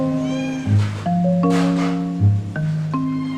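A cat gives several meows in a row, each a clear tonal call of varying pitch, close by and fairly loud against a quiet room.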